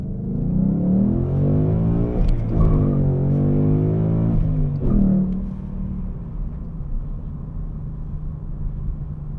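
A 2019 Ford Mustang GT PP2's engine accelerating hard, a deep, loud rumbling roar with rising pitch sweeps from a shift or two, then settling into a steadier lower drone as the revs ease off.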